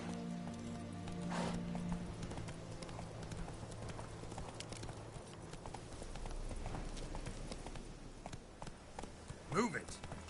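Roach the horse's hooves clip-clop steadily through Witcher 3, a continuous rhythmic trot mixed with rain-like patter and ambient game sound for about ten seconds, rising briefly near the end.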